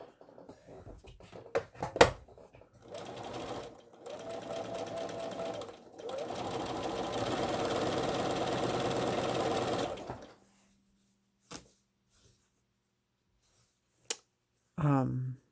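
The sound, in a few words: sewing machine stitching quilt pieces together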